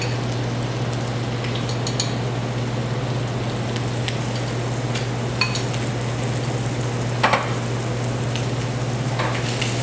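Tomatoes cooking in a Silverstone pan give off a steady, even sizzle with a few faint clicks, continuous and close, with no voices.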